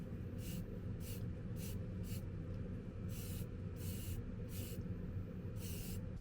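Spray paint hissing onto a lid in short repeated bursts of about a half second each, close and steady over a low background rumble.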